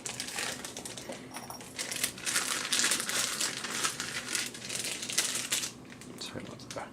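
Plastic packaging crinkles and rustles continuously at close range while a microphone is unboxed from its travel case, with bursts of louder crackling throughout.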